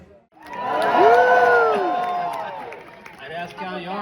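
An audience at a Bill Engvall stand-up comedy show at the OLG Stage cheers and whoops, a loud burst that swells, holds and then fades.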